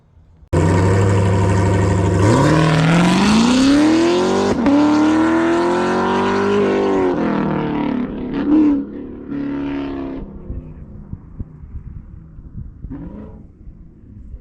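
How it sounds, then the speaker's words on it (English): A 2018 Camaro SS engine roars and climbs sharply in pitch as it over-revs hard, holds a high strained whine, then drops away to a quieter idle. "I over revved the car"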